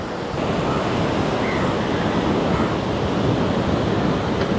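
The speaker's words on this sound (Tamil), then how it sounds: "அம்மா, என்ன அடி அடிக்குது கடல்!" Sea waves crash steadily on the shore, a loud continuous roar of surf with wind, no voices over it.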